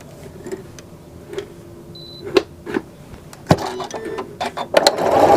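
A sewing machine works an open-work embroidery design with an embroidery needle and regular thread, giving sparse sharp clicks and ticks at first that grow busier and louder toward the end.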